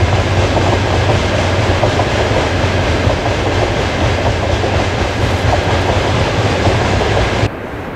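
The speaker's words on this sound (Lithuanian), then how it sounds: "Oi, dar vienas traukinys." Another train passes close by, a loud continuous rumble with rhythmic clickety-clack from the wheels that cuts off sharply near the end as the cars clear.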